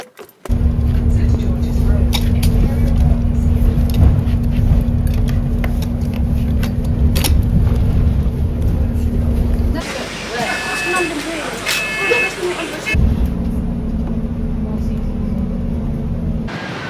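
Riding aboard a slow, hot London bus: a loud, constant engine drone with a steady low hum, a brief stretch of clattering and rattling midway, then the engine tone resumes, with a voice speaking over it.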